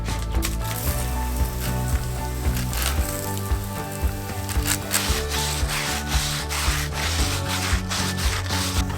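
Fine 600 grit sandpaper rubs back and forth in a rhythmic scratchy hiss, close and steady, with repeated strokes at a brisk, even pace.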